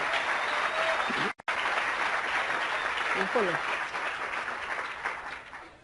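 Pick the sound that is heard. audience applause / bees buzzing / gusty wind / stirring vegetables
audience applause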